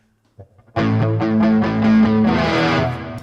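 Electric guitar through a NUX Super Mini Chorus pedal, a strummed chord then sustained notes, thickened by a shimmering chorus effect, loud and close with no talking.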